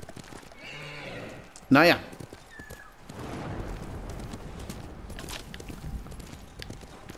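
Horse in the game Ghost of Tsushima gives a single loud, close whinny, with clip-clop hoofbeats and gallop noise running through the rest of the clip; someone talks briefly.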